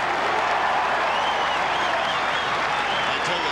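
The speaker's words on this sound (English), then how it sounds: "Listen to the crowd" A large football crowd at St Kilda versus Adelaide in 1992 roars after a Saints goal, sending up a continuous, dense wash of cheering and applause with no breaks.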